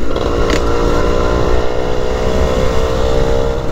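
A Modenas Dinamik 120 motorcycle engine drones while riding in top gear, loud and steady with a constant buzzing tone, close and unbroken throughout.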